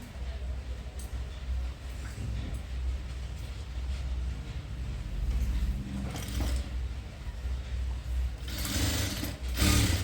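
A sewing machine stitching patches together for a long frill dress, running in a steady continuous mechanical whir with a louder burst near the end, close and alone.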